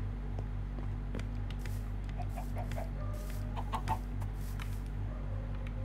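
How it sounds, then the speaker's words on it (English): Chickens in the Minecraft video game give short clucks scattered through a steady low background hum, with a few brief higher chirps and no talking. "Hey, there's two chickens here."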